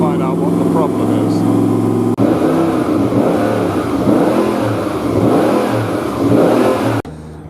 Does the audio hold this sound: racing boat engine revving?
yes